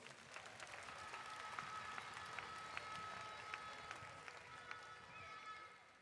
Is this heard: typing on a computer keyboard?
no